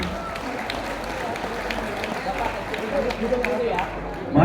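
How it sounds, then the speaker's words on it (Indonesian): Audience applause at a national Syawalan gathering in Indonesia, a steady patter of clapping under a voice over a PA system, swelling slightly toward the end. "tepuk tangan dulu kita semua Bapak Ibu"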